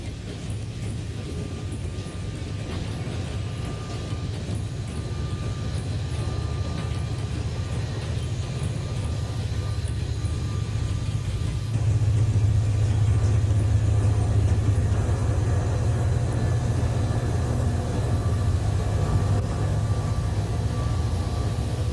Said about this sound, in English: Amtrak train number 351, the Wolverine, arrives at the junction.